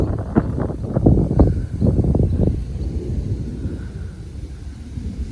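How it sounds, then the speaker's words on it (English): Deep, low rumbling thunder rolls continuously, loudest early then settling into a steady lower grumble with no voices. "It's just a constant roll of thunder."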